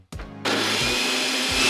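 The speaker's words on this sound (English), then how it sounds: "I've even got a remote for my blender" A blender switched on by remote kicks in with a short low rumble, then roars at full speed in a loud, steady, close whir that holds to the end.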